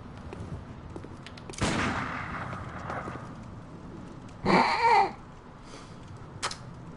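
Gunfire in the video game Bloodborne cracks out as a few sharp, separate blasts, one loud burst followed later by a shorter pop, over a quiet game background with a brief tonal effect between them.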